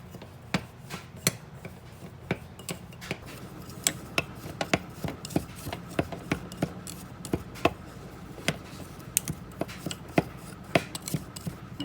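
A spoon or stirrer scrapes and clicks in a container as borax is mixed with lemon juice for a kitchen cleaner, a steady run of sharp, close ticks and scrapes alone without talk.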